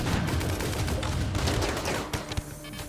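Defensive turrets fire on fleeing mechs in RimWorld, a continuous rattle of rapid game gunfire with sharp bursts layered over a low rumble, loud and steady, breaking into a few separate shots near the end.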